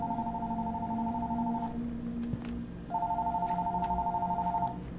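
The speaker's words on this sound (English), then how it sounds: "Phone's ringing, I guess." Telephone ringing inside the horror video game Fears to Fathom, two bursts of electronic trilling ring separated by a short pause, fairly close and clear over a low background hum.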